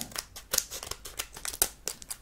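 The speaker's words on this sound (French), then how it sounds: "Je trouve ma paire de ciseaux juste là" Small scissors snip repeatedly through crinkly Pokémon card box packaging, with quick rustling cuts and a few sharp metallic clicks, close and fairly quiet.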